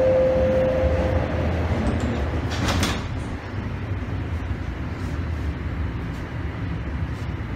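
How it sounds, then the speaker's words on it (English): A Toronto TTC Line 1 subway train: a steady warning tone sounds, then the sliding doors close with a short clattering thump over the low hum of the car. "Please stand clear of the doors."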